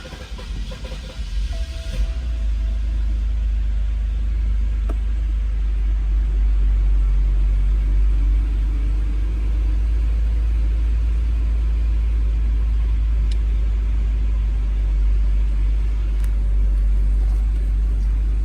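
A BMW E90 engine running after a fuel pressure regulator replacement, a steady loud low rumble that holds evenly for the whole stretch after a brief rougher start.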